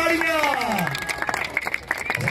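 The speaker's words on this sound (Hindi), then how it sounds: "तालियां" Audience clapping at a traditional kabaddi match in Bahawalpur, a short burst of applause mixed with an announcer's voice over a loudspeaker.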